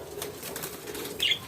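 An ornamental bird flaps its wings in flight nearby, a soft, quick fluttering that runs steadily and ends in a brief, louder flurry of wingbeats. No one speaks.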